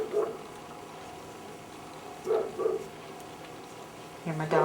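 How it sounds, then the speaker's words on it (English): A dog barks outside, coming through indoors as three muffled, short bursts spaced a couple of seconds apart over a low steady background. "Hear my dog outside."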